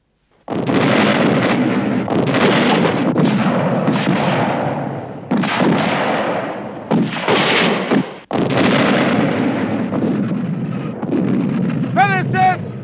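Heavy artillery guns firing in a war film, loud, dense roaring blasts and rumbling bursts that keep going with brief gaps, close and overwhelming, with shouted voices mixed in.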